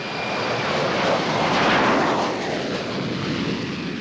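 Steady loud drone of a transport plane's engines in flight, carrying construction staff from RAF Brize Norton in Oxfordshire on a long flight south over the Atlantic; a continuous broad roar swelling slightly midway, with no voices.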